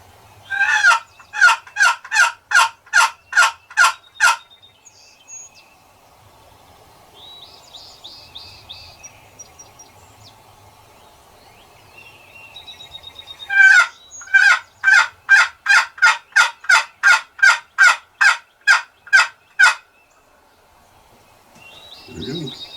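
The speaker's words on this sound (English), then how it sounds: "He did a double and triple gobbling back at me" Wild turkey gobbler gobbling in the mountains, two loud rapid series of repeated gobbles separated by a quiet stretch, with a soft crackling woodland background.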